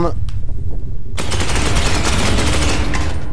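Video game gunfire erupts after a moment of quieter sound, a loud, dense burst of rapid automatic shots that continues steadily to the end.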